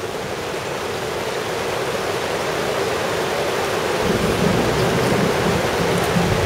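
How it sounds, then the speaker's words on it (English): Steady dense hiss of rain falling, even and continuous with no pauses, fairly loud and enveloping. "I love the sound of the rain."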